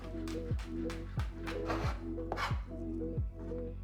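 A knife finely chops raw beef on a cutting board in a steady rhythm, about six crisp, close strokes evenly spaced.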